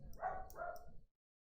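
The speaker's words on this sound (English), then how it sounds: "As you can hear my dog in the background, he likes barking at the wind." A dog barks a couple of times in the background, two short muffled woofs that sound somewhat distant before dropping into silence.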